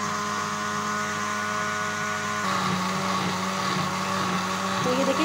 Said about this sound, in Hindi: अब इसको अच्छे से हम ब्लेंड कर लेंगे ताकि ये सारी चीज़ें आपस में मिक्स हो जाए।